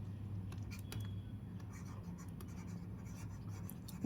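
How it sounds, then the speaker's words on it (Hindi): Pen scratches across paper as the first step of a maths problem is written out by hand, with soft, irregular strokes close up over a low background hum. "सबसे पहला स्टेप लिखेंगे"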